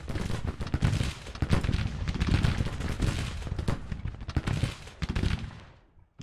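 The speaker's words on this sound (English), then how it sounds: "They are firing down on them." Rifle volleys from the Civil War battle game Grand Tactician roll almost continuously, dense overlapping musket cracks at varying distances, tapering off near the end.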